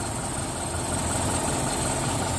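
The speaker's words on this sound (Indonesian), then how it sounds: "Ini mesin nyala ya." Engine of a 1997 Daihatsu Feroza G2 idling, a steady close rumble with a constant low hum and even vibration throughout, heard alone.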